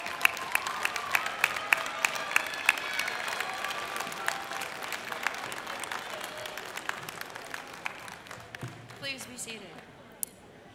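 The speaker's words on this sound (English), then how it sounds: "let's give them a round of applause." A graduation commencement audience at Missouri Western State University applauds families and friends, producing a broad, sustained roar of clapping with sharper individual claps and scattered cheers. It sounds somewhat distant and tapers off near the end.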